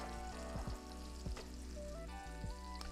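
Onions frying in a pan with sea salt and crushed red pepper flakes, a steady close sizzle broken by a few soft clinks and scrapes of a utensil.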